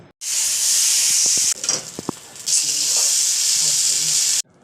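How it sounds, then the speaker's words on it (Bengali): Potatoes frying in hot oil in a kadai for aloo dum give a loud, steady close-up sizzle and hiss, broken briefly by a few stirring knocks and a short dip partway through. "এবারে আলুটা হালকা ভাজা ভাজা করে নিয়ে আমরা আরেকটা পাত্রে তুলে নেব।"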